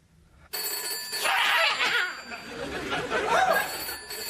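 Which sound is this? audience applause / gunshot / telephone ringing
telephone ringing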